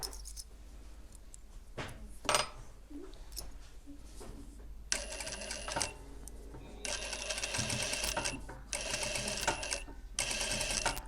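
A sewing machine stitches a hoodie seam in close, rapid rhythmic bursts of mechanical whirring, starting and stopping several times after a few scattered clicks and handling sounds.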